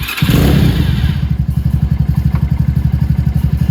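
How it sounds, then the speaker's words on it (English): A Venom X22R 250cc motorcycle pulls off as the clutch engages: a loud revving engine at first, then a close, steady chugging thump pulsing rapidly as the bike rolls forward. "I'll pop it here. Then I can let that clutch out almost all the way before it starts to grab and take the bike forward."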